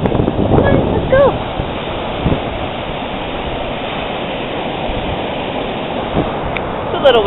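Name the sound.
wind at the beach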